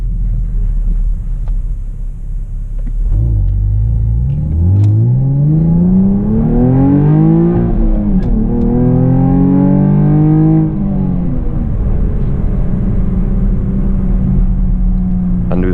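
A Chevrolet Camaro RS V6 1LE idles low, then its V6 roars loud and close as it accelerates, pitch climbing steeply through two gear shifts before easing back to a steady cruise rumble.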